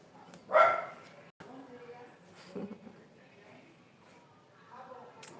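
A dog gives a sharp, close bark followed by a softer yip, heard indoors between a person's speech.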